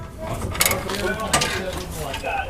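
A wrench tightening exhaust pipe bolts on a car, with metallic ratcheting clicks and clanks in short bursts under people talking nearby.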